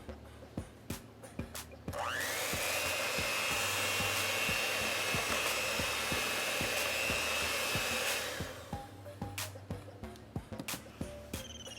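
An electric mixer whirs steadily for about six seconds while folding egg whites into Belgian waffle batter, starting and stopping abruptly, with quiet clicks and light kitchen handling before and after.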